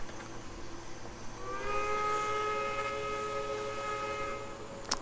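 A Texas & Pacific B-8 0-6-0 locomotive in Trainz 2019 sounds its three-chime steam whistle, a steady chord held for about three seconds over a low engine rumble, followed by a short sharp click.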